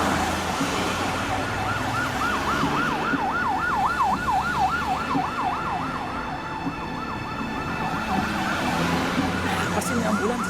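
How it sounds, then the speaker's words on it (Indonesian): An ambulance siren wails in a fast repeating up-and-down sweep over road traffic noise, fairly distant and steady for the whole stretch. "Pasti ini ambulans."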